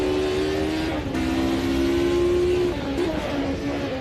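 Race car engine in the Automobilista 2 sim racing game on the Nordschleife, a loud sustained drone whose pitch holds, dips and rises as another car passes close by, with no talking.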